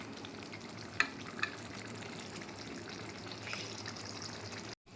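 Yogurt cooking in a kadai for brinjal masala curry gives a steady, moderately quiet sizzle and frying hiss, with a couple of brief clinks from stirring and no talk.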